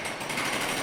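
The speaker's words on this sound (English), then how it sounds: "Now we're in the jackhammer zone." A jackhammer pounds at a high school construction site during a building renovation, a dense, loud, continuous mechanical rattle filling the whole clip with broad noisy texture.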